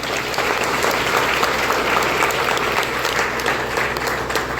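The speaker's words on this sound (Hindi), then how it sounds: "तो एक बार आप सबके लिए जोर से तालियां बजाएं।" Audience of cab and auto drivers at a protest meeting claps loudly and steadily, dense sustained applause filling the hall throughout.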